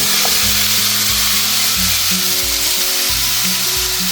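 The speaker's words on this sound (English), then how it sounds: "get your wok or big frying pan, turn on the heat, and put some oil in there" Loud, steady sizzling of chicken frying in hot oil in a wok, a continuous crackling hiss with low clanks of stirring in the pan, no voices.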